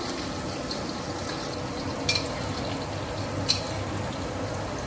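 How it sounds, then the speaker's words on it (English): Sambal goreng ingredients fry over a medium fire, giving a steady soft sizzle with a couple of brief louder crackles or stirring clinks, with no talk. "We fry it over medium fire until it is golden"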